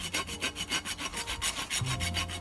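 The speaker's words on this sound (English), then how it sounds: "Keep the file straight, and then not so straight" Hand file rasping a horse hoof in quick, regular strokes, about eight per second, close up with no talk.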